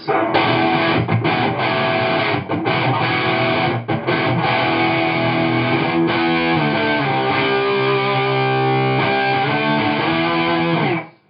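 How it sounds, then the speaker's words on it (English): Heavily overdriven electric guitar chords ring out loud and thick, with a few brief stops between strums, then sustain before cutting off abruptly. "it's just a big old dirty overdrive"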